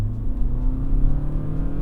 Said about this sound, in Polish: Wciśnięcie pedału przyspieszenia niestety oferuje nam taki nieprzyjemny dźwięk.